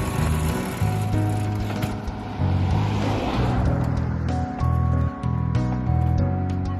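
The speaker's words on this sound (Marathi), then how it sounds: "हा अशी गाडी चालू झाली आहे।" A homemade kick-start vehicle built by Dattatray Lohar runs after being kicked into life, its engine idling with a loud, steady chug and rhythmic pulsing close by, with no voices over it.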